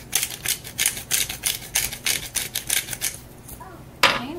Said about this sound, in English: Some fresh ground pepper.